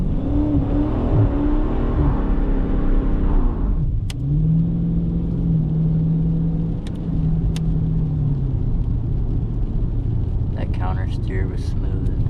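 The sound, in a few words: 2018 392 car driving in rain, engine accelerating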